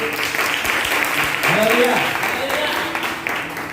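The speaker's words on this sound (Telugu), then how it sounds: "ఎందుకు మీరు అంత గట్టిగా చప్పట్లు కొట్టారు?" Church congregation clapping loudly together, a dense burst of applause under a voice speaking over it that fades gradually toward the end.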